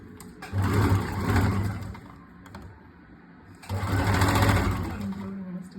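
A sewing machine stitching a princess cut blouse: two long bursts of rapid, steady needle chatter and motor hum, close and loud, separated by a quieter pause.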